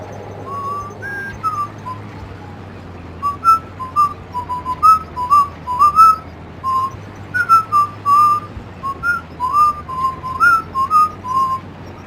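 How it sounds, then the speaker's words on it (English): A person whistles a lively, wavering tune in short repeated phrases, clear and close over a low, steady background hum. "I could probably try and do a lot more communication via whistling than through traditional commentary"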